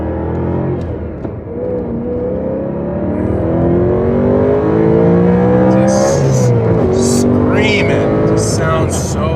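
A BMW M3 engine revs up loudly and climbs through the gears, rising pitch with a brief shift, up close and continuous.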